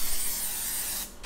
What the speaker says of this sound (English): Grab yourself an 8x8 baking pan, spray it with non-stick spray.